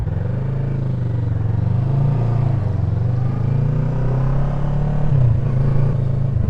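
A green motorcycle's engine drones steadily while riding, close and loud, with a rising pitch sweep and a short rev swell near the end, no voices.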